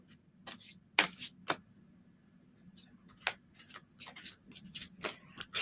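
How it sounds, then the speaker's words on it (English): Tarot cards are shuffled by hand in short bursts of papery riffles and slaps, quiet and close against a soft low room hum, with no talking. "So not good at shuffling"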